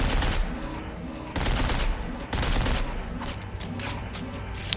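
Rapid bursts of automatic gunfire from a weapon in Dead Space 3, continuous loud firing broken by short pauses, with some talk over it.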